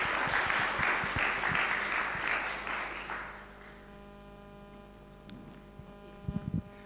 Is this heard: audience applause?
yes